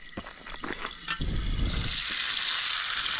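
Bluegill fillets fry over an open cooking fire, giving a steady, close hiss and crackle of sizzling oil that swells and stays loud after a few soft clicks at the start.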